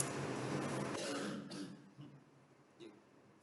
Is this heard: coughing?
yes